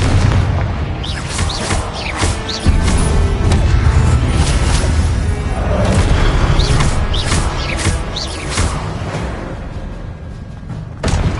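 Repeated booming explosions from Confringo blasting spells in Hogwarts Legacy, loud and close, thudding one after another over a steady rumble of combat noise with no break.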